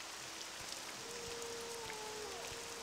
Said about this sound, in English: It is raining quite a bit.